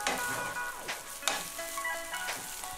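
Green gram fried rice being stirred in a hot pan, a steady sizzle broken by a few sharp scraping strokes of the spatula, close and fairly loud with no talking.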